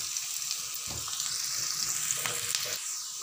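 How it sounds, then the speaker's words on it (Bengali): Chopped onions and nigella seeds sizzle steadily in hot oil, with a continuous close crackle and a few soft stirring scrapes in the pan. "এর মধ্যে দিয়ে দেবো প্রথমে কালো জিরে, তারপরে দিয়ে দেবো পেঁয়াজ কুচি। দিয়ে পেঁয়াজটাকে একটু ভেজে নেব।"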